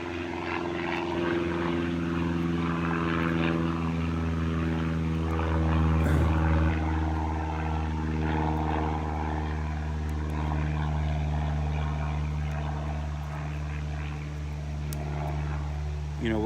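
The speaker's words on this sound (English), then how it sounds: "Oh, wait for the airplane." A propeller airplane passes overhead with a steady, droning engine hum that holds for a long stretch at moderate loudness, while people keep talking underneath it.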